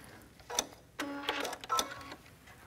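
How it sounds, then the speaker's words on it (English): Short bursts of a sewing machine stitching a hem, three quick mechanical runs with pauses between, close and fairly quiet. "And I'm just going to put this down and stitch."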